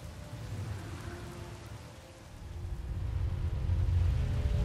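Steady rain with distant thunder rumbling in a fierce storm in Star Wars: The Old Republic, a dense continuous patter that swells louder toward the end.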